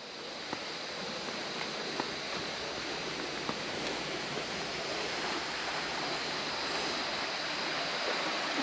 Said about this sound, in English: This water is from mountains.